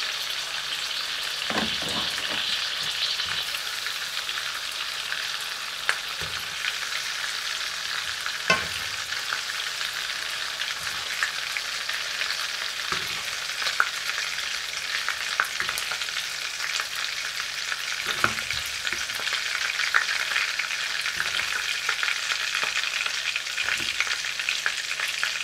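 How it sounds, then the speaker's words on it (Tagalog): Shrimp frying in a pan, a steady loud sizzle throughout with occasional clinks and scrapes of stirring, no voices. "Ayan, nanguin na natin ang"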